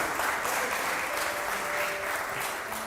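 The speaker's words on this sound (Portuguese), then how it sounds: "Un aplauso para nuestro hermano Diego." Dense, steady applause fills a church service as the congregation claps for a brother called forward. The clapping is continuous and fairly distant, with no voices over it.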